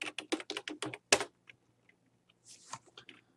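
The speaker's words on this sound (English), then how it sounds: "We can type to everybody." Quick bursts of typing on a computer keyboard, a rapid cluster of crisp key clicks followed by a pause and a few scattered later taps, close and clear with no talk.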